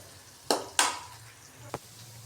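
Garlic frying with turmeric in a pan is stirred, giving two sharp scraping clatters close together, a later short knock, and a faint sizzle in between.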